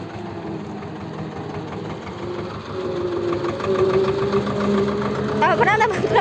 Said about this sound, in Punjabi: ਇਧਰਲੇ ਤੋਂ ਜ਼ੋਰ ਘੱਟ ਪੈਣ ਲੱਗ ਗਿਆ ਤਾਂ ਕਰਕੇ ਸਲਿੱਪ ਮਾਰਨ ਲੱਗ ਗਿਆ ਟਰੈਕਟਰ